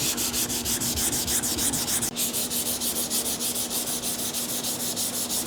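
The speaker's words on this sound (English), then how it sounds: "you always finish off with the DA because it leaves a finer grit scratch" A dual-action sander with 320 grit paper sands a primed car body panel, a continuous rhythmic whirring rub with a steady pulsing pattern and a brief break near the middle, close and alone.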